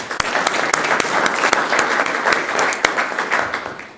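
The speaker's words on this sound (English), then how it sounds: "we certainly appreciate him if we can give him a round of applause" People at a school governing board meeting give a round of applause, moderately loud steady clapping with sharp individual claps standing out, tapering slightly at the end.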